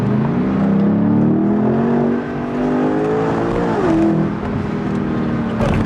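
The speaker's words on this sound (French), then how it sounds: "quand tu mets des coups de palette pour rétrograder, ça fait le..." A sports car engine revs up and down in a smooth, loud, close-up whine, with a brief dip and a rise in pitch. A small crackle near the end may be a downshift pop.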